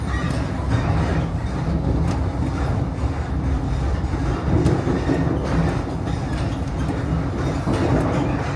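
A ScotRail train pulls out of Montrose station, heard from on board as a steady low rumble with faint rhythmic clicks of wheels over rail joints, continuous and moderately loud.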